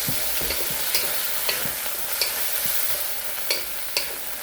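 Shrimp and zucchini stir-fry with light soy sauce sizzles steadily in a pan, punctuated by regular scraping clicks of a spatula tossing the food, close and moderately loud with no talking.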